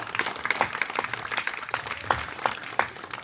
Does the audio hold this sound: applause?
yes